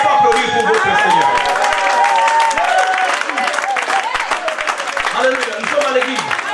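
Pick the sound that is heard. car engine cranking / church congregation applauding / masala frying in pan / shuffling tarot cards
church congregation applauding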